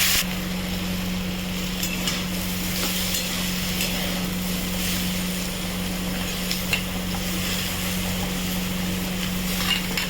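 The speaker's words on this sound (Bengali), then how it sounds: "এখানে পেঁয়াজ ফোড়ন দিলাম একটু কাঁচা লঙ্কা এটাকে এখন ভেজে নেবো" Onion and green chilli frying in a pan, a steady broadband sizzle with faint stirring scrapes, continuous and close, with no talking.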